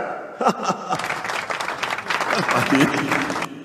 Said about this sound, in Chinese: 掌声，掌声，掌声，掌声